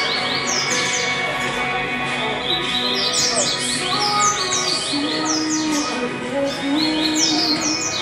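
At a practice bird singing tournament in Recife, a songbird delivers rapid, repeated chirping phrases without pause, loud and close, layered over steady crowd noise and distant animal sounds.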